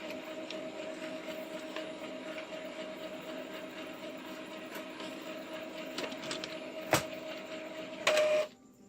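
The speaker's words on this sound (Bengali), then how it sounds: "পেপারটি আমরা প্রিন্ট করছি।" An Epson L3110 inkjet printer prints a colour page, a steady close mechanical whir with faint clicks, ending in a louder brief feed or eject sound before stopping.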